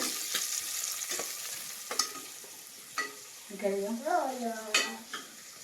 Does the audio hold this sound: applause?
no